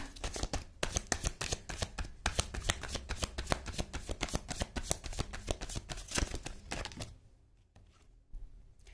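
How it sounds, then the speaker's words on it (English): A tarot deck is handled and shuffled close up, with rapid flicking and riffling card sounds in a steady burst, fairly quiet, ending in a few soft taps. "Let me just take out one card for Three of Swords"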